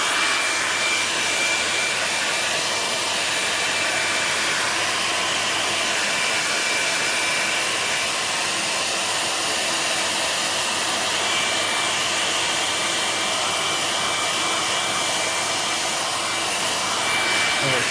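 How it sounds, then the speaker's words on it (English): A hairdryer blows steadily and close for the whole stretch, a loud, even rushing whoosh with no talk, drying a freshly made DIY Christmas craft tray. "I'd rather use a hairdryer to get it done quickly rather than waiting around"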